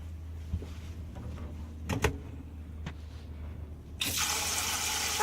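Water from a faucet fitted with a new aerator, fed by a water pump, suddenly gushes into a sink as a steady bright hiss after a few quiet clicks and knocks.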